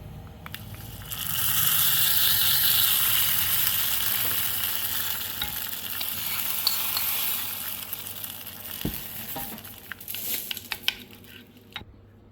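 A tempering of mustard seeds, cumin and sesame seeds for oats handvo, a Gujarati rice dish: a loud, bright sizzling hiss that slowly fades, giving way to scattered pops, clinks and scraping of utensils nearby.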